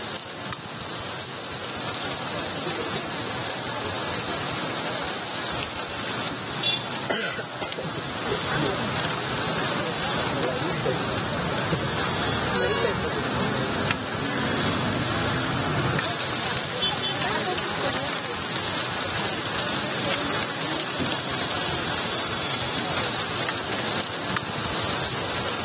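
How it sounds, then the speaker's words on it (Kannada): Rain falls steadily in Karnataka as an even, broad hiss of drops on surfaces, holding at a constant level throughout, with a voice speaking over it. "ಕಳೆದ 2-3 ದಿನಗಳಿಂದಲೂ ಕೂಡ ಅನೇಕ ಕಡೆಗಳಲ್ಲಿ ರಾಜ್ಯದಲ್ಲಿ ಮಳೆಯಾಗ್ತಾ"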